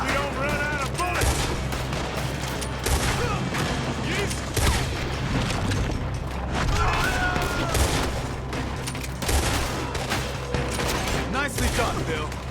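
Gunfire in the Red Dead Redemption 2 video game: sustained volleys of close, loud shots and rapid bursts over a rumbling backdrop, with character voices calling out between the bangs.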